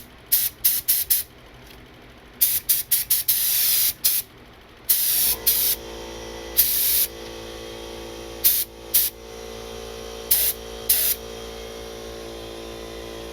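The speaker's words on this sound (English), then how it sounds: "let's check the spraying pattern one more time" Short hissing bursts from a Harbor Freight HVLP spray gun spraying thick Rustoleum paint, about a dozen quick blasts of varying length against a steady compressor hum that starts partway through.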